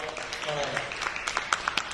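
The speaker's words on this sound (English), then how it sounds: "A big applause for our" Audience applause for a panel at the WORLDEF event in the UAE, with a crowd's clapping running throughout under a busy hall wash and a few sharper claps standing out near the end; speech-like murmur mixes in.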